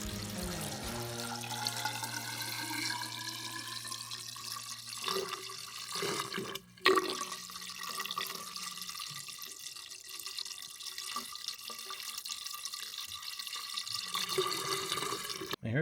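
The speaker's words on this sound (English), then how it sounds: "I hear it draining" Water runs steadily through a freshly cemented ABS plastic drain trap in a bathroom remodel, a continuous close gurgling wash that fills the whole stretch with a brief break midway.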